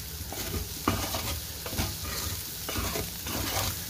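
Potato pieces frying in a little oil give a steady, close sizzle while a spoon stirs them, with scraping strokes against the pan at a regular pace and no talking.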